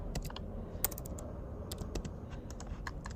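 Quick, steady typing on a computer keyboard during a design session, key clicks in close succession, clear and near over a soft low hum, with no talking.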